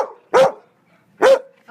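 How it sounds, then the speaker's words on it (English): Two loud, sharp dog barks close by at an animal shelter, spaced about a second apart. "Hey! No barking!"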